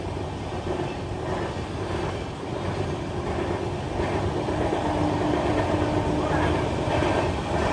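The Humsafar Express train from Chennai to Ahmedabad runs at cruising speed, a continuous rolling rumble with faint rhythmic wheel clatter that swells slightly toward the end, heard from inside the coach.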